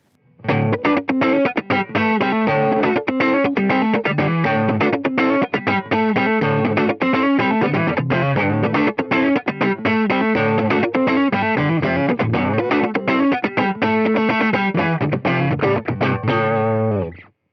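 Electric guitar through an overdrive pedal playing a fast, dense riff, loud and gritty with sustained saturated tone from start to finish, no voices.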